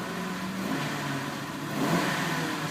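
A 2004 Ford Crown Victoria Police Interceptor engine hums and revs steadily up close, with a faint ticking, puffing quality in the exhaust note from a slight exhaust manifold leak.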